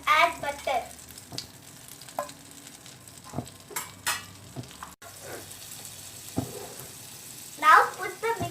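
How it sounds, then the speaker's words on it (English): Butter melting in a hot pan ahead of chebab pancakes, giving a soft continuous sizzle with occasional scraping and clinks, and brief voices heard in the background. "Heat the pan and add butter."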